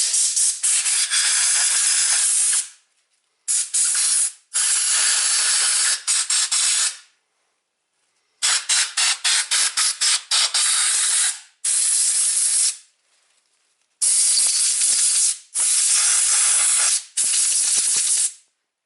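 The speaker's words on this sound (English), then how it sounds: "Let's check the little compressed air and then WD-40. Alright, blow this sucker out." Compressed air blasting through an EVAP system part from a Nissan Rogue during a P0456 repair, loud close hissing bursts of one to three seconds separated by brief silences, about six blasts in total, no speech.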